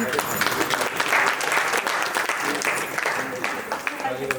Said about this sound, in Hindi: तालियां बजाइए जी